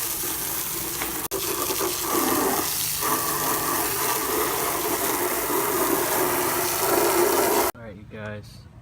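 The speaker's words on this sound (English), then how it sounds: "the last step you're gonna want to do is just rinse this thing off" Water sprays and gushes steadily as an oily, plastidip-coated part is rinsed clean, loud and continuous for several seconds before cutting off abruptly; a brief quieter stretch follows at the end.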